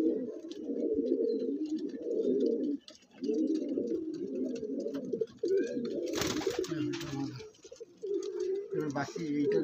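A close Andhra pigeon coos in low, rolling phrases that repeat with brief pauses, while someone speaks alongside and there are occasional handling noises.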